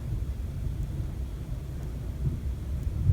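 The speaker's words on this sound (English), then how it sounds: "Can you hear that thunder?" Low, continuous rumble of distant thunder, steady and broad with a slight swell toward the end, heard alone without talk.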